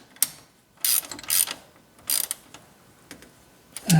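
Ratchet wrench clicking in short bursts while snugging a pulley bolt on a Porsche 944 engine, several quick ratcheting runs separated by pauses, close and fairly loud in a quiet garage.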